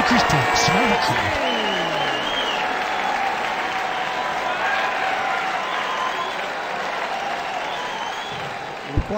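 Darts video game crowd breaking into sustained applause and cheering, loud at first, then settling into a steady wash of clapping.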